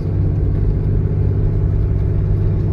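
A car drives over a rough, patched road, heard from inside as a loud, continuous low rumble of tires and engine with no breaks.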